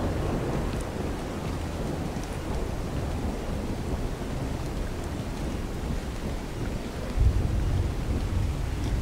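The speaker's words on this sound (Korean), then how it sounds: "번개 치는 거 보소." Thunderstorm in the survival game Ark Survival Evolved, a steady roar of rain and wind with a low rumble of thunder swelling near the end.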